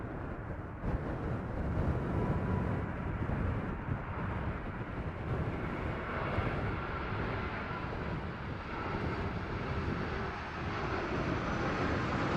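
A fixed-wing aircraft flying in gives a broad, steady engine roar that stays fairly constant throughout, heard from a distance with some wind rumble on the microphone.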